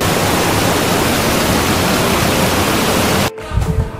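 A flooded river roars nonstop beside a village temple, loud broadband rushing water filling the scene before cutting off abruptly near the end.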